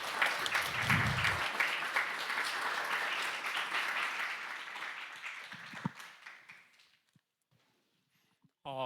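Large indoor audience applauding warmly at a Korean embassy mentoring event in Ecuador, steady dense clapping for several seconds that thins and fades out, followed by near silence.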